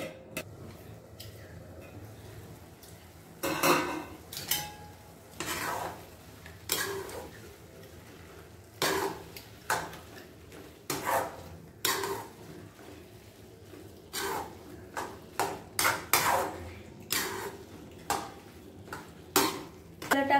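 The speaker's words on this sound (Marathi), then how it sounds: "आता आपण हे छान मिक्स करून घेऊया" A spoon stirs milk and cream into carrot halwa in a pan, giving scattered metallic scrapes and clinks against the pan at an irregular pace, close by, with quiet gaps between strokes.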